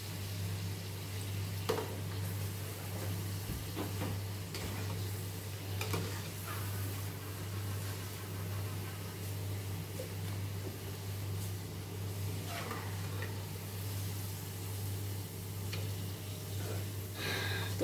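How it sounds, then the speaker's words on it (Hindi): Pakoras fry in hot oil with a soft, continuous sizzle and occasional stirring clinks, set over a steady low hum in a home kitchen. "और इसी तरह से मैं सारे पकोड़े अपने फ्राई कर लेती हूँ पहले"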